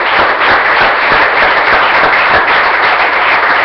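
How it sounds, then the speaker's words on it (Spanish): Church congregation applauding during a service, dense continuous clapping that stays loud and even, with no one speaking over it. "Démosle un aplauso a Dios."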